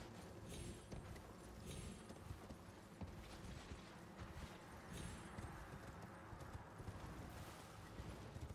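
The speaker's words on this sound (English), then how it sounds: "horse climbing in this game is sick" Horse hooves clip-clop steadily in a video game as the horse climbs, a faint, continuous run of rhythmic thuds with no talk over it.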